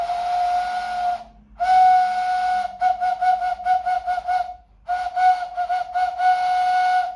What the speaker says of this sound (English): First up, we have the howling wolf whistle.